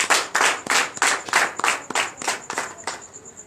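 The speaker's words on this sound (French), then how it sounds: "Donnez l'acclamation au Seigneur Jésus." A church congregation claps in acclamation during a Friday night deliverance and prophetic service, about ten loud, rhythmic hand claps in steady unison, slowing and fading slightly toward the end, with no talking.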